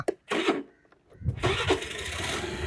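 A motorbike engine starts up near a seaside town, a short burst then catching and running loud and steady through the rest of the clip.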